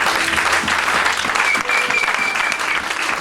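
A church congregation bursts into loud, sustained applause, a dense wash of many hands clapping together that fills the room and continues without a break.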